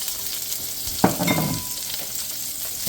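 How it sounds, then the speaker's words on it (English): Green onions fry in a pan for Mongolian beef, giving a constant close sizzle with one sharp scrape of a stirring spoon partway through, and no talk. "Give that a good stir."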